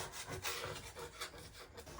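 Quiet, steady rasping and scraping with a rough, repetitive rhythm, like paper being scraped from a wall, close by with no voices.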